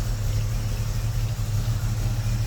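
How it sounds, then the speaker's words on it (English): A Ford XB coupe's car engine idles steadily with a low, even rumble, moderately loud and unbroken throughout. "It's not real loud, which is good because that other engine was pretty loud."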